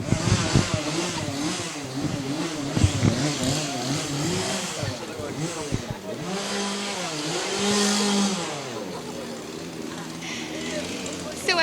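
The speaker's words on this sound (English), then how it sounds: "So as our final scare, we have our chainsaws." Chainsaws rev in bursts at the finale of a haunted attraction, their engines rising and falling while someone talks over them.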